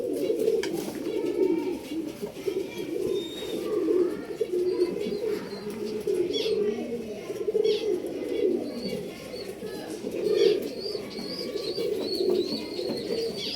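Pigeons coo continuously in a loft in Bangalore, soft rolling calls overlapping at close range, with occasional chirps and faint wing flutters in the background.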